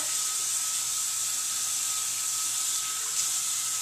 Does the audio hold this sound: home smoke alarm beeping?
no